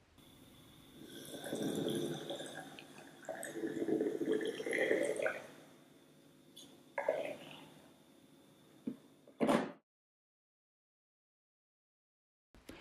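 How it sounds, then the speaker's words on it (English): Hot water poured from a kettle into a bucket, a wet gurgling splash that rises and falls in several surges over about nine seconds, then a short knock and silence. "Pours the water into a bucket and places both on the table."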